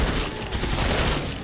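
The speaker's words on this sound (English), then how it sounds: "this SMG is really accurate too" Continuous SMG gunfire in the co-op shooter Killing Floor 2, a dense, loud rattle of rapid shots running for the whole moment without pause.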